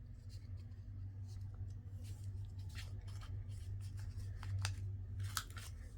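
A metal corner punch rounds the corners of paper during junk-journal crafting, giving a few sharp, brief clicks over a steady low hum in a quiet room.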